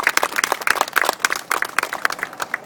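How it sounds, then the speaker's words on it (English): A small crowd applauds at an outdoor community housing launch event, with brisk, distinct individual claps in a lively, uneven rhythm, close and fairly loud. "Let's give them a round of applause again, please."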